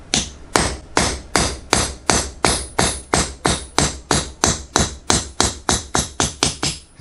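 A hammer strikes a knife's spine over and over in a steady, quick rhythm, about three sharp ringing blows per second, close and loud, with no speech.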